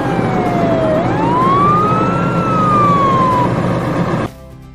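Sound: police car siren

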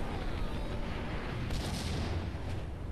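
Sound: grenade exploding in the video game Max Payne

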